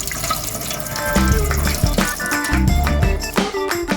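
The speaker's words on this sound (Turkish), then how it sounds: "Suyunu böyle bir defa yıkattırıyorum tozu gitsin diye." Water splashes and gurgles over dried beans and chickpeas as they are rinsed in a bowl, with bursts of pouring and clinking close by that swell and fade through the few seconds.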